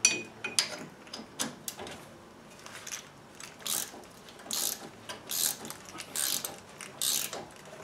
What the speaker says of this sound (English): So I got my ratcheting wrench now.